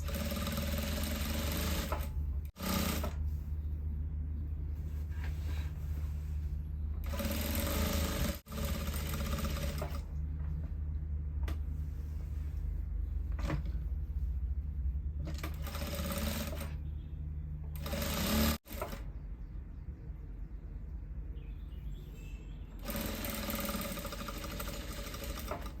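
Sewing machine stitching with a bias binding foot on wing pieces, a steady close whirring run broken by brief pauses, then resuming at an even pace.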